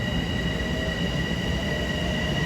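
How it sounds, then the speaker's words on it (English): Commuter trains of M9 cars pass through Kew Gardens station at rush hour, a loud, steady rumble of rolling wheels with high, sustained wheel squeal ringing over it throughout. "the train coming east on track 4 is 1732 to Huntington as a westbound departs for New York"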